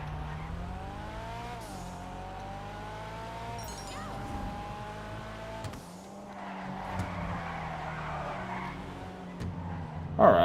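An Annis Hardy sedan, modeled on a sixth-generation Nissan Laurel, drives in GTA Online with a steady engine hum that rises and dips with shifting, plus brief tire squeals and a louder burst at the end.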